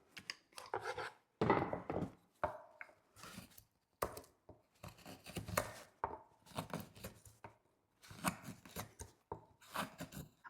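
A spoon carving knife shaves a small wooden spoon blank by hand, giving close, repeated crisp scraping and slicing strokes in short bursts with brief pauses between cuts.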